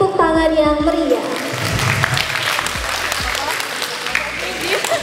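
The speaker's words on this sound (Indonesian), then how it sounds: "Mari beri tepuk tangan yang meriah." Lively applause from an audience welcoming a guest on stage at a university literature and literacy event in Sumedang, dense clapping throughout with voices and cheering mixed in.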